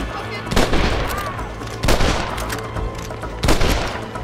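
Gunfire in Red Dead Redemption during the assault on Fort Mercer: three loud, close shots or bursts about 1.5 seconds apart, each leaving a rumbling echo under steady background noise.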